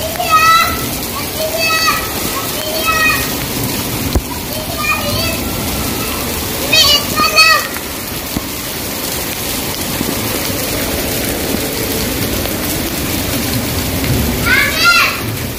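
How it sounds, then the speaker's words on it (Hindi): Heavy rain pours down, heard from beneath a shelter as a dense, constant wash, while children's voices and other speech break in repeatedly over it. "बहुत तेज बारिश है जी।"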